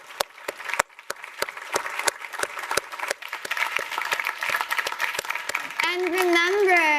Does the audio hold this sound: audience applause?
yes